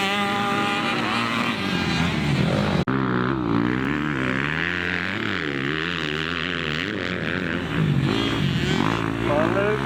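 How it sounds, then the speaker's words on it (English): Motocross dirt bike engine revving hard on a practice track, a loud buzzing whine that wavers up and down and holds near its peak, heard close with a voice talking over it. "it's hitting the rev limiter"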